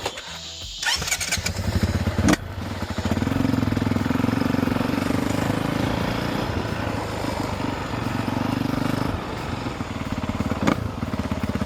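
A 2023 Honda CRF450R dirt bike engine sputters and revs unevenly for several seconds, then the steady rumble drops away as the engine stalls. The sound is close and loud, and no one speaks.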